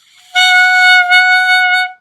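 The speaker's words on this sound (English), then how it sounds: "we don't want to puff our cheeks or it'll make an ugly sound like this" A clarinet played with puffed cheeks gives a harsh, buzzy tone, one strained note held for about a second and a half, briefly broken, then resumed alone before it cuts off.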